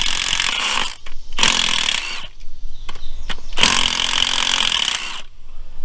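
Two 10mm bolts are removed from a plate on a supercharged 3800 engine with a power impact tool or ratchet, giving three loud, close, buzzing whirs separated by short pauses and a few sharp clicks.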